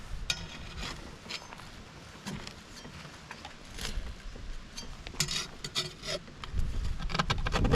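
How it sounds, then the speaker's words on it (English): Spatula cutting and scraping through a campfire Dutch oven lasagna, a faint continuous rasping scrape with scattered scratches and clicks against the pot over outdoor background noise, no talking. "Spatula goes right through."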